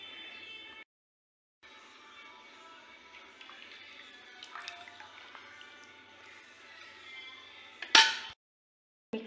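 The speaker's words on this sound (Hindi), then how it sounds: "पानी ली हूँ ठंडा, अब इसी में पालक को डाल दूँगी" Cooked spinach leaves dropped into a pot of cold water in a home kitchen, a single short splash near the end after a quiet stretch of faint background noise.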